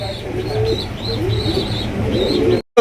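Pigeons coo in low, rolling bursts, repeating steadily at close range over a faint background hiss.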